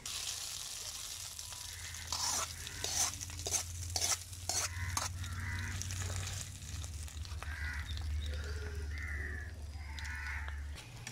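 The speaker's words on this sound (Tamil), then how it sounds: "இப்போ நம்ம வந்து கடுகு இறக்கி சவு சவுல கொட்டிக்கலாம்." Mustard seed tempering poured into chow chow and stirred, giving a steady close sizzle with scraping stir strokes over a low kitchen hum, while birds caw faintly in the background.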